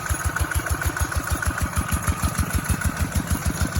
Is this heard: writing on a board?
no